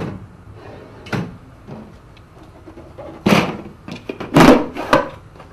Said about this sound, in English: to release it, you just have to press on the plastic catches and pull the drawer forward